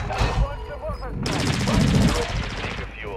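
Gunfire from Call of Duty: Warzone 2 rings out in a short burst of sharp reports during a frantic firefight. An excited player talks over the shots.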